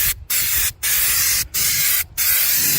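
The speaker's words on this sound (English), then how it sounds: "Just a little tiny nozzle for this bed liner can." Bed liner sprays from an aerosol can through a tiny nozzle in four loud hissing bursts, each broken by a brief silent gap, close up and with no talking.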